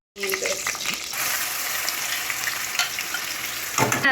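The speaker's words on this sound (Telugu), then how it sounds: "ఇట్లా ఫ్రై చేస్తే చాలు కదా" Food fries vigorously in a pan, a loud, dense sizzle that starts abruptly and holds steady for a few seconds, with some clattering from stirring near the end.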